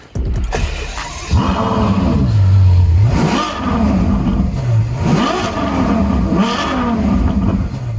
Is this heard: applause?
no